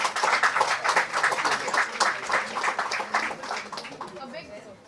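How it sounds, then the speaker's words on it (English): A crowd applauds with dense, steady clapping that fades toward the end. "A big applause"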